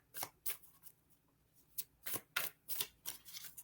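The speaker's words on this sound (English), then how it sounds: "and then I'm going to pull a card for clarification" Tarot cards being handled and pulled from the deck, making quiet, crisp papery flicks and slides in short separate bursts with pauses between them.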